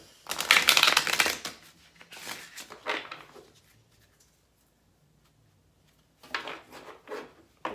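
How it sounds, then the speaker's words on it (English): Tarot cards being shuffled and drawn from a deck: crisp riffling and sliding flurries, close by, coming in bursts separated by short quiet gaps. "Okay, I want to pull another card."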